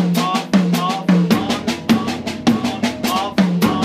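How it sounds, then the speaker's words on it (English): A drummer rolls between a low tom and a high tom, landing on beats with the right hand and off beats with the left, producing an even run of close, punchy, ringing hits, some slightly uneven, with no voices. "I'll play the on beats with my right hand on the low tom, the off beats with my left hand on the high tom"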